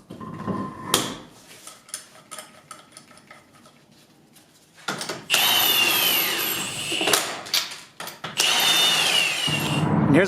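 Bursts of a power tool drive lug nuts while mounting wheels onto a Honda Civic, with long loud runs of whirring and rattling after quieter clinks of metal parts.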